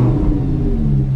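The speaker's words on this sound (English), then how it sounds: "It does have an aftermarket exhaust, so we can go ahead and hear that" A deep, throaty V10 rumble from a 2011 Lamborghini Gallardo LP560-4 Spyder with an aftermarket exhaust, loud and close, held briefly at steady revs.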